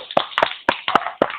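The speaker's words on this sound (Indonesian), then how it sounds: "Tepuk di depan muka." Five or six crisp single hand claps made in front of the face during a children's movement exercise, evenly spaced, close and fairly loud, with no talking in between.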